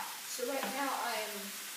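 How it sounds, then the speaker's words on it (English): Lamb browning in a pan with garlic, onions and carrot, a soft steady sizzle heard close up beneath a person talking. "getting the lamb brown, and I have garlic, onions, and carrot in there"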